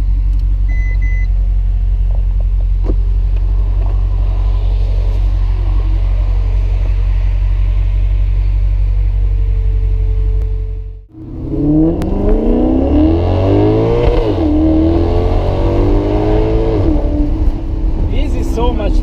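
Maserati GranCabrio MC Stradale driving with the roof down, a steady low engine drone that briefly cuts out, then returns as louder revving with rising and falling gear pulls, close and open-air.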